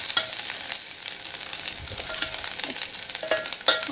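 Goat brain fry with turmeric and ginger is stirred in a pan, giving a quiet, steady sizzle with soft scraping strokes and occasional light clinks of the utensil.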